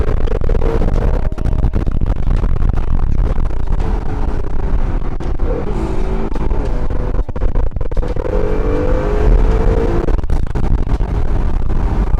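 A Honda NSX engine revs hard with its blow-off valve, a loud, steady engine roar heard close up throughout, with slight rises and falls in pitch.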